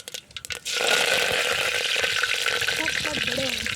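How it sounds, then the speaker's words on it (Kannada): Mustard seeds crackle and sizzle in hot oil heating outdoors in a field for a lemon rice dish, a loud steady frying hiss with quick pops, the clip opening on brief shuffling before the burst starts. "ಈಗ ಎಣ್ಣೆ ಬಿಟ್ಟಿದ್ದೀವಿ ಕಾದ್ಮೇಲೆ ಸಾಸಿವೆ ಕಾದಿದ್ದು ಎಣ್ಣೆ ಈಗ ಸಾಸಿವೆ ಹಾಕೊಂಡ್ವಿ"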